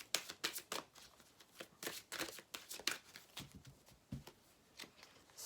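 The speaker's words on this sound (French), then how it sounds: "On va mettre une carte." Tarot cards are shuffled close by in a quiet room, a run of soft, quick riffling slaps and flutters in uneven bursts.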